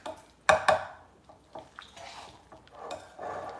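Whisking cream cheese in a bowl while making party bites, a few sharp clinks of a whisk against the bowl followed by softer scraping and stirring strokes, close and intermittent.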